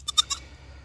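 Nigerian dwarf goat kids, a little over a month old and bottle-raised, give three quick high bleats in close succession, near and fairly clear, then fall quiet against a low background hum.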